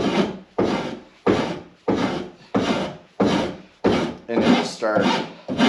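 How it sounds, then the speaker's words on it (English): A wood rasp's smoother side is pulled along a wooden snow snake in about nine steady, evenly spaced strokes, each a close, loud, coarse scraping rasp that fades at the end of the stroke; a single spoken word is barely heard. "When you've gotten your shape in place and it's rough, you can just flip the rasp over."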